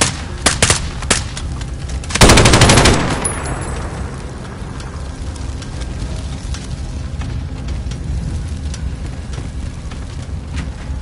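Loud burst of rapid gunfire in Call of Duty Modern Warfare, a dense crackling volley of a few seconds after a couple of sharp single shots, then a lingering rumbling battle ambience.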